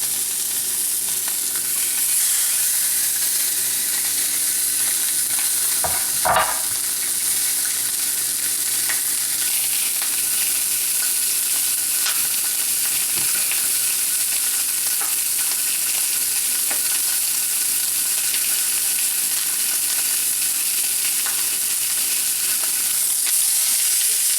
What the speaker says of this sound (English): I'm going to do the skin side down first.